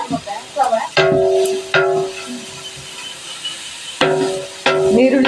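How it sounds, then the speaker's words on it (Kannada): Onions fry in oil for a chicken sukka cooked in a large 12 kg batch, with a steady sizzle under repeated sharp clinks of a ladle stirring against the pot, and a voice speaking briefly. "ನೀರುಳ್ಳಿ ಸರಿ ಕಾಯೋಡು ಕೆಂಪೌಡು"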